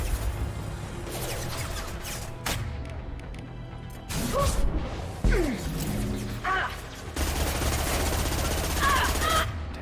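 Heavy gunfire in the video game Mass Effect 2, bursts of rapid shots, crashes and whooshing impacts building through a chaotic firefight, loud and close.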